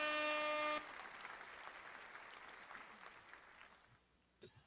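Studio applause clapped by a small group of podcast hosts for their viewers and subscribers, a dense patter of hand claps that starts right away and fades out over a few seconds, preceded by a brief tonal jingle.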